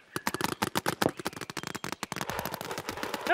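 Rapid, sharp pops of paintball markers firing paint balls during an outdoor paintball game, a fast irregular volley of close shots that thins into a dense rattling mix toward the end.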